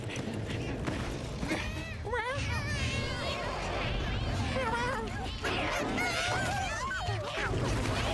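A giant rooster-like monster in Monster Hunter Wilds gives honking, crowing calls several times over a dense, noisy wilderness backdrop.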